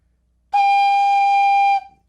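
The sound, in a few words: flute head joint played with end covered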